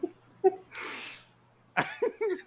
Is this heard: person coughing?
yes